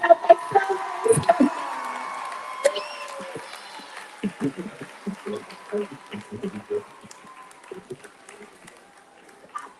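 Crowd cheering and clapping at a St. Baldrick's Foundation memorial event: scattered claps and whoops in bursts that thin out toward the end, mixed with voices talking nearby.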